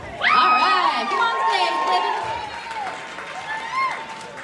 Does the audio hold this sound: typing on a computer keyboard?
no